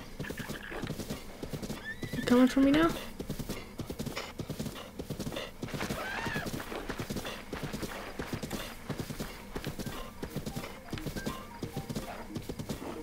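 Rapid rhythmic hoofbeats of a galloping horse in The Legend of Zelda: Breath of the Wild, with a loud whinny partway through; a person speaks briefly over the clatter.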